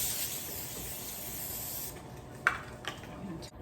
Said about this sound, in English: I have a baking sheet here that I'm going to spray with some cooking spray.